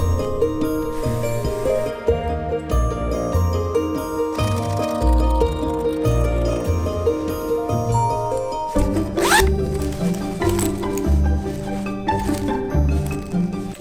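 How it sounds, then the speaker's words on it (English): A zipper is pulled back and forth while it is sewn into a fabric bag with a lining, giving repeated close, rasping zips between quieter handling and rustling of the material. "So now I'm just gonna go ahead and turn it into a bag by adding the zipper and the lining."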